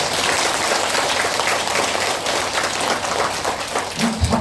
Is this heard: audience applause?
yes